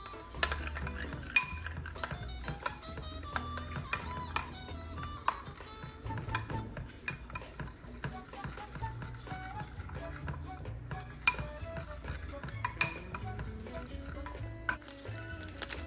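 Seasonings being stirred with achiote oil in a bowl, scattered light clinks and scrapes of a utensil against the dish in an irregular rhythm, fairly quiet and close.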